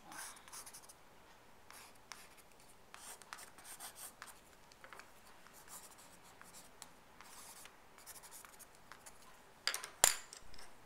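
A pencil scratches and rubs across textured watercolor paper in steady, close strokes, with a brief sharper tap near the end; no one speaks.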